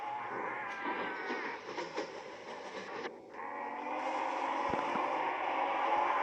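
A train rolling along in the Roblox game Piggy, a continuous rumbling clatter with a brief dip midway before the noise swells back louder and steady, with no voices.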